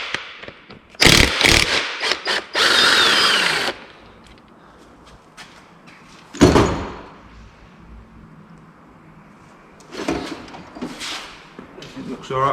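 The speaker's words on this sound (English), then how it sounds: "I'm just going to use an impact gun" An impact gun undoes bolts on a VR6 engine from an MK5 Golf R32 being stripped down. It fires in loud, close, buzzing bursts of about one to three seconds, separated by quieter stretches.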